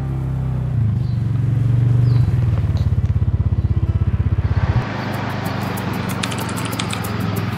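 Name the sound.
dirt bike engine nearby in forest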